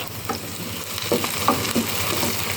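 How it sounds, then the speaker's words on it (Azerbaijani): Beaten egg frying in a pan in a home kitchen, a steady close sizzle with light patter and a few soft utensil taps. "Bu da burada kovruluyor."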